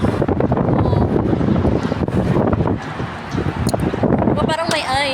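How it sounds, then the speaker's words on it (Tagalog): Strong, cold wind at 19 degrees buffets the microphone in loud, rumbling gusts, with a voice talking partly over the roar. "hangin. Parang ililipad ako."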